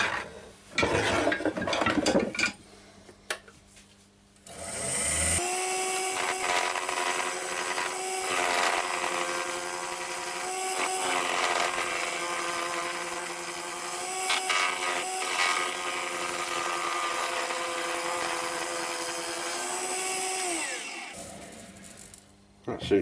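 A big old gouge cuts into a spinning yew blank on a woodturning lathe, a sustained scraping rasp over the motor's steady hum for most of the stretch, preceded by brief knocks and rustling.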